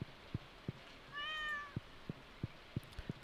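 A single soft meow from a cat in the Stardew Valley video game rises and falls once, faint against a backdrop of regular low game clicks or footsteps ticking along steadily.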